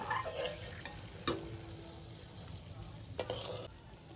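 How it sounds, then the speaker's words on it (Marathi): Half a cup of cashews frying in oil for Diwali poha chivda, a steady broadband sizzle with a few sharp clicks of a spoon stirring the pan, close and moderately loud, no talking. "तेलामध्ये आपण अर्धी वाटी मी काजू घेतले तेही तळून घेऊया"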